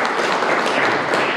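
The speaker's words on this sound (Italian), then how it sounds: "facciamo un applauso" A convention audience in San Marino claps together in a dense, steady wash of applause that stays loud and even throughout.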